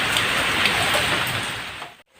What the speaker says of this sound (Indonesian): Tuh hujan gede.